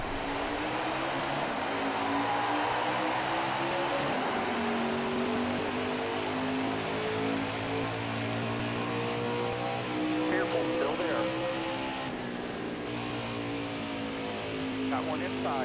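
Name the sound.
race car engines in the video game NASCAR Heat 5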